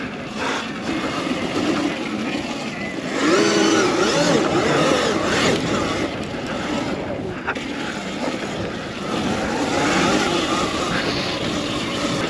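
A Sur-Ron electric dirt bike accelerating on a motocross track, a rising and falling electric whine over wind rumble, loud and close, surging in a couple of bursts.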